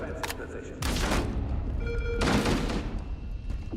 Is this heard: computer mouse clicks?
no